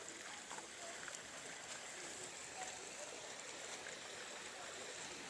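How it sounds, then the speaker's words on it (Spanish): River flowing beside a Japanese garden, a continuous soft rushing of water heard at a moderate distance, steady and unbroken. "Podemos ver este río corriendo por aquí."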